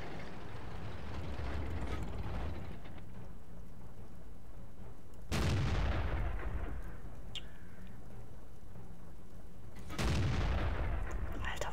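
Deep booming tank gunshots from the video game World of Tanks, two heavy blasts a few seconds apart, each rolling off into a long rumbling echo over steady background noise.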